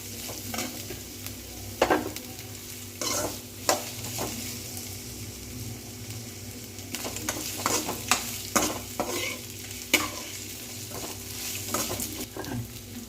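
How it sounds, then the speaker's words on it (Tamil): Onions sauté in a pan for paruppu keerai kadayal, giving a soft continuous sizzle broken by the irregular scrape and tap of a spoon stirring, heard close and without talk. "நல்லா வதங்கி வரட்டும்."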